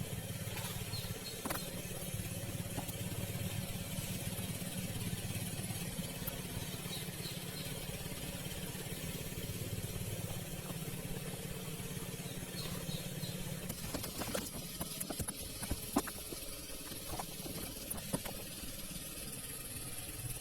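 An engine runs steadily during a coconut harvest, blowing air into a small side canal to push floating coconuts toward the main canal. It drones at a moderate distance, with faint clatter and bird calls, and no talking.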